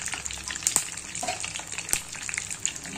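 Chana dal crackles and sizzles in hot tempering oil, a busy, close frying hiss broken by sharp pops and spatters, with occasional stirring scrapes and no one speaking.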